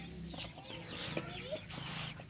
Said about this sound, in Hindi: हमारी एक मुर्गी ना शोर करती हुई कमरे से बाहर आई है